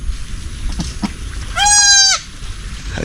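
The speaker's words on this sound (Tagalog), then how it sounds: "May bago tayong panganak na kambing" A newborn goat kid gives a single loud, close, wavering bleat lasting about half a second, set against quiet farmyard background noise.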